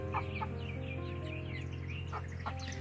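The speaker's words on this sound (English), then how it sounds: "Clyde is a Plymouth Rock" A Plymouth Rock chicken clucks in a backyard flock, giving a few soft, short clucks over a steady low background hum, moderately close and fairly quiet.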